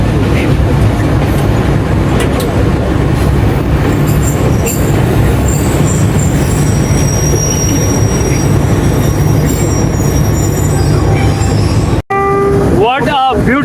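Jand train rolls through the Seven Sisters tunnels with loud, steady rumbling and clattering wheels and intermittent high squeals, ending in a brief cut with faint chirps.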